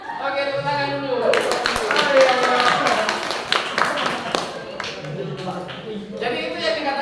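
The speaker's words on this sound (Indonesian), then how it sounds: "Oke, tepuk tangan dulu." Group hand clapping from students in an Indonesian-language university class, a dense burst of many hands spread across the room, with voices talking and calling out underneath throughout.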